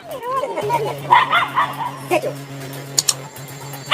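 A dog yips and whimpers in short, high bursts at a grizzly bear, with a steady low hum running underneath and a few sharper clicks near the end.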